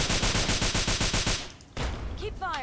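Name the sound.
gunfire in video game Fallout 3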